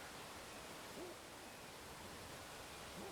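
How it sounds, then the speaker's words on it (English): A black cuckoo in the video game Ancestors: The Humankind Odyssey calls twice, a soft low hooting note at a distance, heard over a steady wash of ambient jungle noise. "one of the sounds I definitely can hear in the background would be the black cuckoo"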